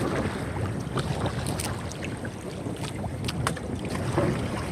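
A small boat paddled in strong wind on shallow water while crabbing, gusty wind rumble buffeting the microphone with splashy, irregular water strokes close by.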